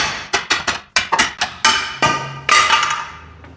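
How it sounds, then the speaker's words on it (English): A hammer strikes a Nissan Rogue lower control arm in a quick series of about a dozen loud, sharp metallic blows with ringing decays, close up, with brief pauses between groups of hits. "Grab your hammer, knock it down."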